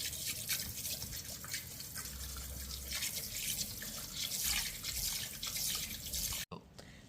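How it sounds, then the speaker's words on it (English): Cold water runs and splashes steadily from a tap or sprayer over cooked salt fish, a continuous hissing pour that cuts off abruptly near the end. "I'm just gonna throw the cold water on top and let it sit for a little bit"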